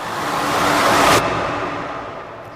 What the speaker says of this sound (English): And then we've also layered in a reverse tail.